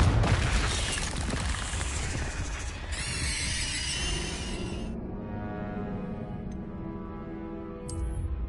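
Fiery spell blasts crackle and boom in Hogwarts Legacy, a dense burst of explosive noise that fades into a lingering crackling tail, with a short sharp flick near the end.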